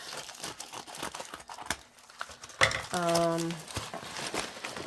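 Scissors cut and crinkle through shiny cake ball packaging at close range, giving brief rustling and tearing sounds, then a short tonal squeak.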